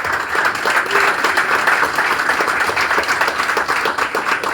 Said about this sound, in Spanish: Dale un aplauso al Señor, porque Cristo ha venido en tu casa.